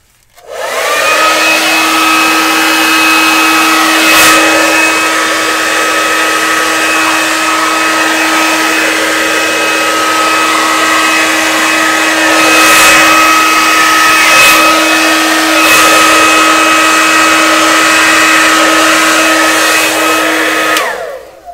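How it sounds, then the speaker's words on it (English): A hair dryer blows loud and steady for about twenty seconds during a Dutch pour acrylic painting session, a constant whooshing drone with a faint whine, dipping slightly as it is moved around. "here comes the hairdryer."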